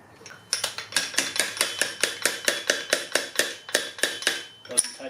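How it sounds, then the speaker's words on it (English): A hammer taps a wheel bearing into its seat on a Triumph Thunderbird 1600/1700 front wheel: about fifteen sharp, evenly spaced metallic knocks, loud and close. "Doesn't take much to hammer it into place."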